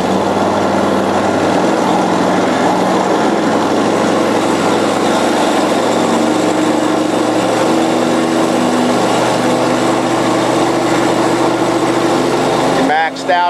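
Twin-engine hot and cold water trailer sewer jetter engines running steady and loud close by, with throttle raised toward 3,000 RPM for 3,500 PSI, then a brief mechanical clunk near the end; someone talks over the drone.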